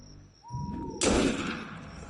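In the video game Assassin's Creed Unity, a single sharp, loud gunshot cracks out close by after a softer lead-in, leaving a short decaying echo.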